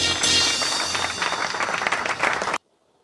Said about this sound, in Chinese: 掌声鼓励，成功了。